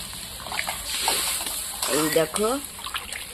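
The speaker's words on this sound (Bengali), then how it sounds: "তাহলে জল দিয়ে দিই" Water poured into a pot of sautéed potatoes cooking over a wood fire, giving a brief splashing gush under a close voice.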